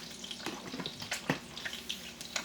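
Meatballs frying in a pan as the heat is turned up, giving a steady close crackling sizzle with scattered sharper pops and spits over a low hiss.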